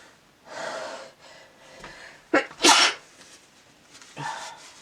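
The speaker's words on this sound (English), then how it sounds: "Sneeze there." A single sharp sneeze with a quick gasping intake just before it, followed by quieter breathing and a short snort.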